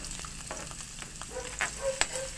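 Ginger frying for squid adobo makes a steady sizzle with brief utensil scrapes and clinks, a sharper clatter near the end, no talking.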